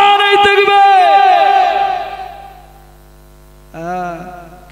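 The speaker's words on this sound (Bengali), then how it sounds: "জোরে সোরে মারেন নারায়ে তাকবীর, ঝেড়ে কেসে মারেন নারায়ে তাকবীর" A crowd at a Bengali religious sermon gathering shouting the Nara-e-Takbir chant, a loud massed roar that fades out, then a second shorter burst of voices after a pause.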